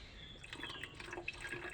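Water trickles and drips as it is poured into a car radiator, a faint, close, uneven splashing with small gurgles and no speech.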